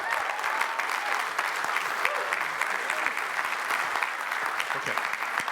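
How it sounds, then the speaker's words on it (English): A large debate-night audience applauds steadily and loudly throughout, a dense, continuous wash of clapping with no pauses. "I wanted to ask you if you could welcome us with a round of applause"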